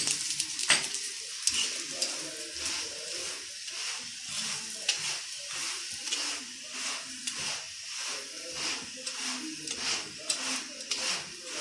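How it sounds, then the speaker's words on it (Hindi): A radish (mooli) paratha fries in oil on a pan. A steady hiss of sizzling runs under regular, rhythmic pressing or scraping strokes, about one per second, close and clear throughout. "थोड़ा सा मैं दूसरी तरफ भी हल्का सा ऑयल लगा देती है ताकि दूसरी तरफ से भी अच्छी तरह फ्राई हो।"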